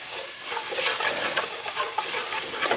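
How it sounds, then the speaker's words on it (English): A spoon scrapes and stirs gravy in a pan with a soft continuous sizzle underneath, steady close-up scraping strokes repeating at an even pace, no voices. "So let's stir that around."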